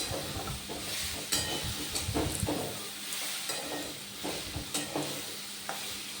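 Oats khichdi stirred in a pan, with a soft scraping and hiss of the spoon against the pan's surface, continuous with a few sharper clinks, close and fairly quiet.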